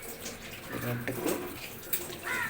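Water rinses out a vessel that held ground masala for a roasted-coconut mackerel curry, giving a short burst of splashing and sloshing at moderate loudness.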